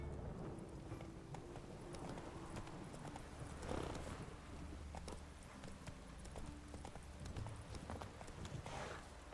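Horse hooves in The Witcher 3 video game clop steadily at a trotting rhythm under faint game ambience and background music, fairly quiet, with no voices.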